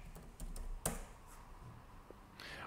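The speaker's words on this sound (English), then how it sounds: "I want to go to this terminal and write npm run" Quiet typing on a computer keyboard as a terminal command is entered, a few faint key taps with one sharper click, heard alone at low level.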